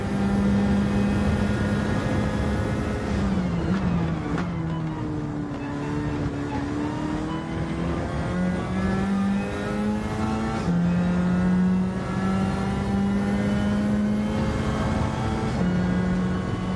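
An on-board CASCAR Cup stock car engine in Gran Turismo 7 howls loud and steady, pitch rising through the gears with sharp drops at each shift, no talk.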